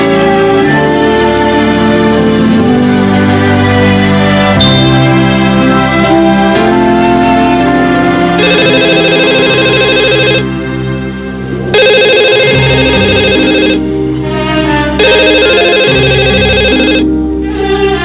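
A telephone rings in a family home, a loud electronic ringtone that repeats as a steady melodic pattern for nearly twenty seconds, with no talking over it.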